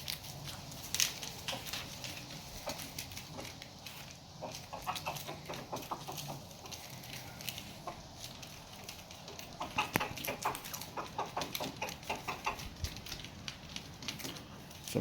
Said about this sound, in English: That's the end of the chickens eating their peanuts.